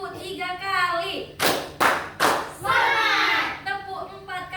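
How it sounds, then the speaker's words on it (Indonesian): A class of children in a classroom claps hands three times in quick succession, three sharp, loud bursts spaced evenly, with voices talking before and after. "Tepuk 3 kali."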